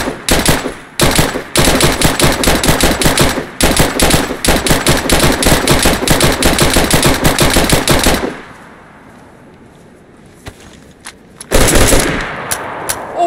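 Sustained automatic gunfire from a weapon in the video game DayZ, a loud continuous burst of rapid shots lasting several seconds, then a lull of quieter background and a brief final burst near the end.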